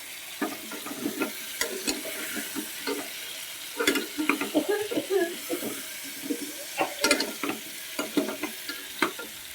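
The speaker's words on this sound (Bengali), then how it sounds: "একদম অল্প তেলে এটা ভাজা হচ্ছে দেখো পটলটা মোটামুটি আমার ভাজা হয়ে আসছে" Pointed gourd frying in a small amount of oil, a soft sizzle broken by frequent clinks and scrapes as the pan is stirred, close and steady throughout.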